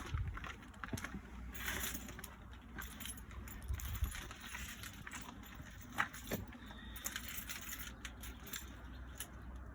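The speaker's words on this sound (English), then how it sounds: "You shouldn't have this many keys" A large bunch of keys jangles and clinks in irregular bursts while a touring caravan is being secured, fairly quiet and close, with scattered metallic rattles and a sharper clink near the end.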